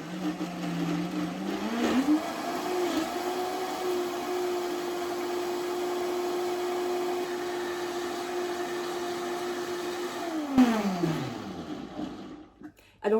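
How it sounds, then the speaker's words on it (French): A kitchen blender whirs up to speed while puréeing soup. It holds a steady, loud motor drone for about eight seconds, then winds down and stops. "Et là, je vais actionner les pales de mon blender."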